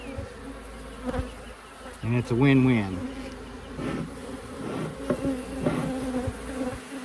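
Honeybees hum continuously as two Layens hive colonies are combined into one, a close steady buzz with a voice speaking briefly partway through.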